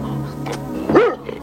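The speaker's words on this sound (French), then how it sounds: "Le grand chien vient de s'annoncer." A big dog gives a single deep, loud bark close by, a short rising-and-falling burst over a low background hum in an animated Alice in Wonderland story.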